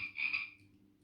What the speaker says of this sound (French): ça fait le bruit de la grenouille.